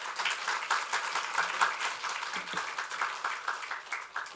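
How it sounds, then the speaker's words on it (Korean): A church congregation claps to welcome the pastor, distinct hand claps forming a lively, slightly uneven patter that swells and ebbs over a few seconds, with no one speaking. "우리 목사님 나오시면 우리 환영과 감사의 박수 우리 같이 하도록 하겠습니다."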